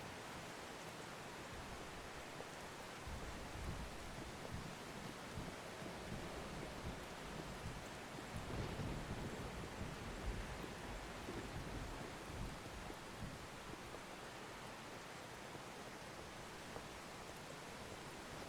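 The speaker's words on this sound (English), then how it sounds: "In the middle of the windy rain." A windy rainstorm in the Outbrk storm-chasing game gives a steady, even hiss of rain and wind, with a slightly heavier gust in the middle and no voices.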